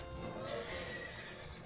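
Epona the horse neighs in The Legend of Zelda: Ocarina of Time, a short game whinny with faint clip-clop hooves under steady game audio throughout.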